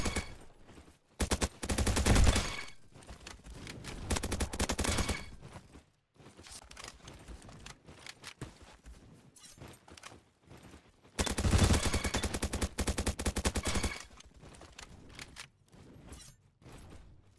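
Sten gun fire in the Roblox shooter Bad Business, two dense bursts of rapid automatic shots separated by quieter stretches of in-game mechanical noise, with no voices.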